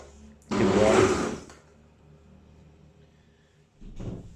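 A Ninja soup maker blends creamy tomato soup in a loud one-second whirring burst, falls quiet, then starts a second blending burst near the end.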